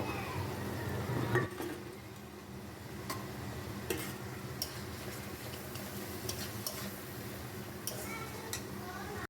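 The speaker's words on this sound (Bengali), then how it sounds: "সেই পেঁয়াজ ভাজাটা আমি এবার দিয়ে দেবো মশলার মধ্যে দিয়ে ভালো করে মিশিয়ে নেব" Fried onions being stirred into masala in a pan for a prawn malai curry, a soft sizzle with repeated spoon taps and scrapes against the pan, close by.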